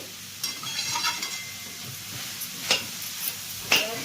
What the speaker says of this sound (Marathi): त्याला मी तुपामध्ये परतत आहे